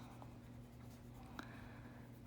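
Colored pencil strokes scratching softly across paper, a faint continuous rubbing texture with one brief sharper tap, close and alone with no talk.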